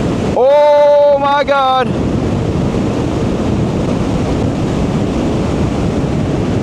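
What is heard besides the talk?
strong wind on a motorcycle ride into a headwind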